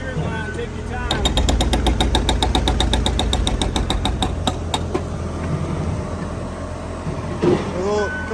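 A Kubota KX057 excavator's hydraulic breaker pounds rock in a rapid, steady hammering burst of even strikes over a droning diesel engine, then slows to a few separate blows before the engine idles on alone.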